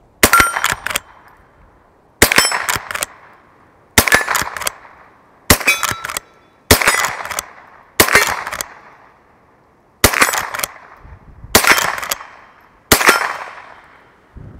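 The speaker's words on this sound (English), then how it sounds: "Got some rounds in the tube, so shoot a few more times." A Marlin 39A .22 lever action rifle, made in 1959 and fired without a scope, lets off about nine sharp, ringing shots. Each crack is followed by a short metallic clatter from the lever, spaced roughly one to two seconds apart, with no talking.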